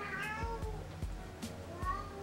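A pet cat meows several times indoors, rising and falling cries spaced a moment apart, moderately close and clear over a faint low room hum.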